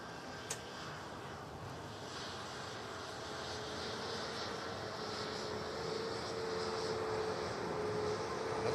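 A Scandinavian Airbus A320neo airliner lands at Manchester Airport, its engine roar steady and rising slightly as it passes close by, heard alone without talk.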